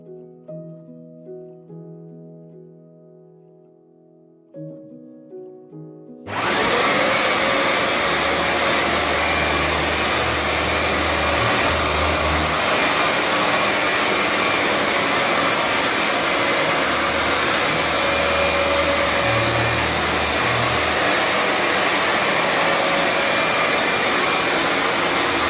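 A VAX Platinum Power Max carpet cleaner switches on after a few seconds of quiet tonal sound and roars loudly and steadily at close range, a constant broadband whine that continues to the end.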